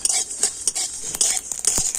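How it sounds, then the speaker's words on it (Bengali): Whole spices lightly roasting in a pan for raw mango pickle, with a rapid series of spatula clinks and scrapes against the metal over a thin dry sizzle, close by. "সমস্ত মশলাগুলো আমি একটু হালকা করে ভেজে নিচ্ছি"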